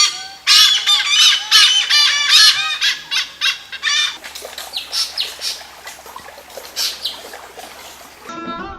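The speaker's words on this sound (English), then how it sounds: "Beautiful birds," Birds in the Western Ghats of India call in a dense, loud burst of repeated squawks and chirps, then thin out into scattered, fainter calls with no voices present.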